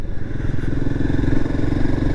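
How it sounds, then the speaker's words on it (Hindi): A Royal Enfield Himalayan motorcycle engine runs while riding, with a steady, close, throbbing mid-pitched drone and faint mechanical clatter, and no speech. "हिमालयन का जो इंजन है ना थोड़ा सा बैलेंस्ड है"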